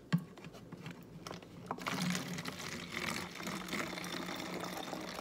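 Water is poured into a plastic mixing bottle holding a mold-making mixture, a soft continuous splashing fill that starts after a brief tap and runs steadily at low level.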